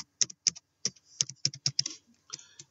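Computer keyboard typing while entering an employee name into a WordPress table: a quick run of distinct key clicks in irregular bursts, close and clear, with no voices.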